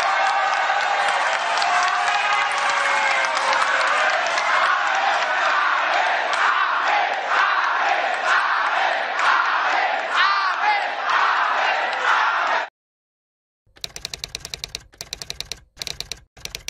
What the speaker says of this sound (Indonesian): Kita berdiri memberikan aplaus kepada mereka berdua.